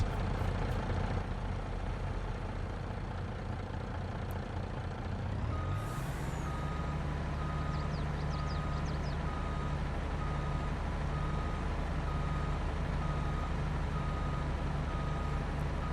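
A truck in Farming Simulator 22 idles with a steady engine drone, gives a brief air-brake hiss, then sounds a regular, evenly spaced reversing beep that repeats until the end.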